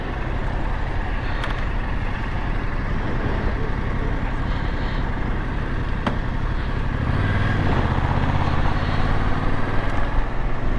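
Yamaha MT 700 Tracer twin-cylinder motorcycle on a ride, a steady engine drone with wind and road noise that rises and deepens slightly near the end as the bike accelerates.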